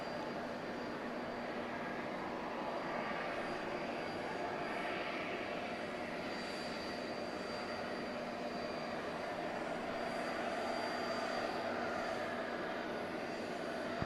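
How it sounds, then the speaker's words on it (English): A Boeing 767 jet approaches to land near a bay at Atlanta's airport at night, its engines a steady, fairly distant roar and whine sustained throughout without voices. "here's the 767 coming in from the city adjacent to the bay"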